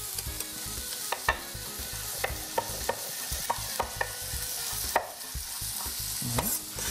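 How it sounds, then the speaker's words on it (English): Long strips of sausage frying in a hot skillet, a steady close sizzle and crackle broken by repeated sharp clicks and scrapes of stirring, with no talk. "We're gonna go ahead and throw that right into our skillet."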